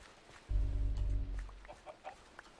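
A chicken in the block-building game Minecraft gives a low, throaty cluck lasting about a second, followed by a few short, softer clucks trailing off, with no talk over them.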